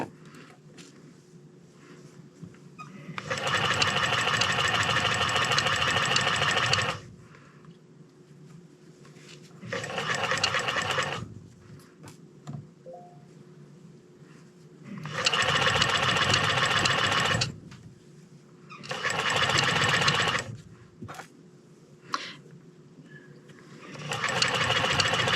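Near and loud, a sewing machine stitches through layers of fur hat fabric in several bursts of rapid, even running, with quiet gaps between them while the fabric is handled.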